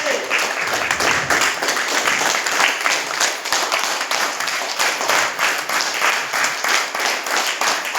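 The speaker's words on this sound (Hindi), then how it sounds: "तालियां बजाइए" Sustained audience applause at a wellness company launch event in Nainital, dense clapping from a crowd lasting throughout, fairly loud and steady.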